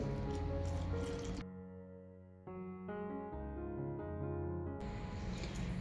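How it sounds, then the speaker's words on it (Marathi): Wet squishing and squelching of dough being kneaded stiff by hand as water is added bit by bit, repeated steadily, with background music playing over it. "आता आपण थोडं थोडं पाणी घालून घट्टसर असं मळून घ्यायचं आहे"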